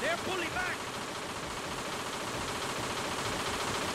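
Rapid gunfire in a PayDay 2 bank heist, a dense and steady crackle of shots lasting the whole stretch, with a few brief game sound effects near the start.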